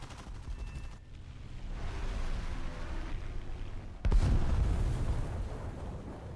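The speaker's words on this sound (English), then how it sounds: "420 mil cannons. Basically the same cannons that I had on the Corsair previously." Aircraft cannons fire in the War Thunder video game, dense rattling bursts over steady engine roar, with a louder, heavier barrage kicking in partway through.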